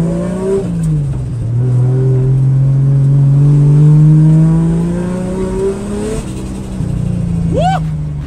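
A Nissan 350Z engine revs hard at a drifting session, the pitch rising and falling through long loud pulls, ending with a sharp high squeal.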